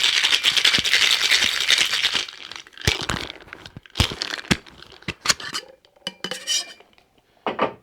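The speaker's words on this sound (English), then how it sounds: "And give that a good shake." Metal cocktail shaker tins packed with ice rattle hard in a vigorous reverse dry shake for a Clover Club cocktail, a loud continuous churn for about two seconds, then scattered clinks and knocks as the ice settles.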